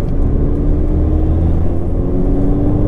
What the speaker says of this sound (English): I'm in fourth gear, 2000 RPM. I'm going to accelerate now.